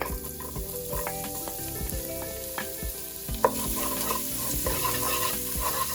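Minced garlic sizzles steadily in cooking oil seasoned with annatto powder, with scraping stirs and utensil clinks over the continuous frying hiss, close and fairly loud, without any speech.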